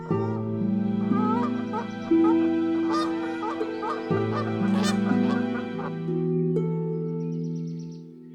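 Geese honk repeatedly in a noisy flock by a snowy beach, a dense layered chorus of overlapping calls that stays loud and continuous throughout.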